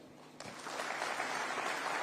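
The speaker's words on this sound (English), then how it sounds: "A round of applause for His Excellency." Audience applause for His Excellency at the Kenya Private Sector Alliance 20th anniversary at KICC, Nairobi, bursting in after a brief pause and holding steady as a dense, full round of clapping from a large hall.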